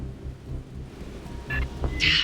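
A low rumbling thunderstorm with steady rain rolls through a sci-fi combat level in Aliens: Fireteam Elite, with deep thunder swelling under sharper bright crackles near the end.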